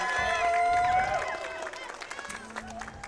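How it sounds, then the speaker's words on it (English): An audience at a Monster Hunter Wilds championship claps and cheers in a dense burst that fades to scattered claps, with crowd voices mixed in. "let's get another round of applause for everyone that participated"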